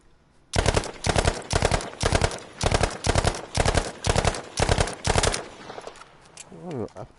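Automatic weapon fire in Battlefield 5, about ten rapid bursts in a row, loud and close, followed by quieter game sounds and a brief voice at the end.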